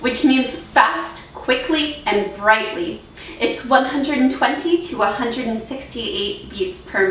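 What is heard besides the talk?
None of the usual background noises is heard.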